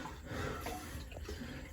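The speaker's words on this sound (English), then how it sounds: "But there's this little ice cold creek running through here." Shallow ice-cold creek, about four inches deep, trickling through a cave beneath heavy rock, a steady close murmur of running water with soft gurgles and no talk.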